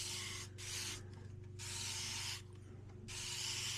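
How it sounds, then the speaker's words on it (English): A homemade spray starch pump bottle hisses in repeated bursts, three longer sprays separated by short pauses, close and steady over a low hum. "this is my spray starch bottle that I made myself"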